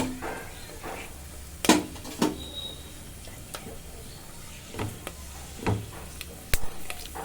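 Whole spices, star anise, stone flower and cardamom, frying in ghee in a pot for ghee rice, with a soft sizzle under sharp scrapes and clinks of a spoon stirring at irregular intervals.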